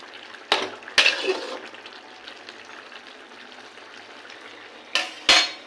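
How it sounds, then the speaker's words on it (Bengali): Small fish dropped into a pan of boiling curry with potatoes and vegetables, a few sharp splashes and clatters at the start and again near the end over a soft, steady simmer, with no talking. "ঝোল ফুটে এসছে, এবার মাছগুলো দিয়ে দেবো।"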